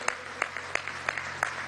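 A short burst of scattered clapping at a Venezuelan government event welcoming National Guard aspirants, a handful of sharp distinct claps spaced irregularly over faint room hum.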